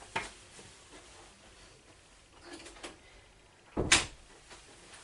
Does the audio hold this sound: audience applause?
no